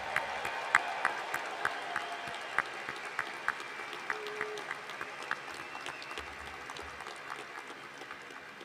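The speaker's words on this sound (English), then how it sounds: "Give them a round of applause." An audience at a spring 2024 business college commencement ceremony applauds its graduating class, with steady, moderately distant clapping. Sharper claps stand out at regular intervals over the crowd.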